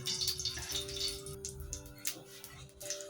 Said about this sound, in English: I will wash my onion too